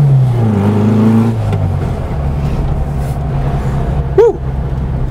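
A 1964 Porsche 356 rolls slowly through a 30 km/h zone in town, its low engine drone heard from inside the car, with a brief rev and a gear change early on, then steady cruising.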